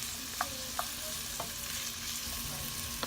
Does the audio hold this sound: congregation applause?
no